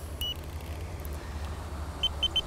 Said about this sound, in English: So if I turn the alarm on,